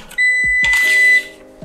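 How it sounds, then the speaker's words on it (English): Film processor sounding a single steady electronic beep as it is switched on, clear and close, followed by a lower humming tone as it starts. "it does a beep"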